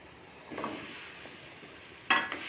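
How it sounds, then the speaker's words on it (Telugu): Coriander powder is stirred into a drumstick milk curry, giving a soft, quiet simmering hiss with a few scraping strokes of a spoon and a sharper clatter near the end; no speech. "ధనియాల పొడి వేసుకొని బాగా కలుపుకోవాలి"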